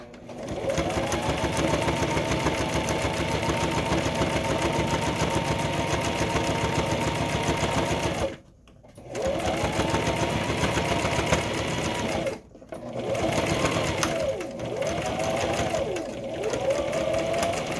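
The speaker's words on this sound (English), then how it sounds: "if you are using a heavier fabric or heavier interfacing like I am, you want a heavier needle" A sewing machine with a denim needle stitches heavy fabric in long steady bursts of rapid stitching, stopping twice briefly, then resuming with shorter uneven runs, close and loud.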